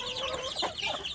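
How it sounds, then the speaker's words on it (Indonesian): Village chicken chicks in a simple brooding box peeping and clucking softly, a close, quiet flurry of small overlapping calls with no talk. "memelihara anak ayam kampung setelah menetas di kotak pembesaran"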